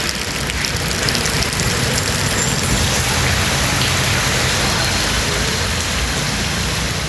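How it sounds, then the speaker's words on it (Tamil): Moderate rain falls in a dense, unbroken hiss, loud and steady throughout, with no voices. "உள்ளிட்ட இடங்களில் மிதமான மழை பெய்தது."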